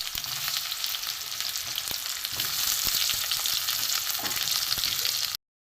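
Boiled potato pieces fry with chopped onion, tomato and nigella seeds in a little oil, a loud, continuous sizzle with occasional stirring clicks of a utensil against the pan and no talk.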